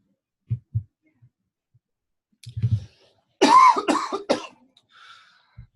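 Coughing from a man at a real estate talk: a few soft low throat sounds, then a loud burst of several rapid harsh coughs close to the microphone, fading to silence.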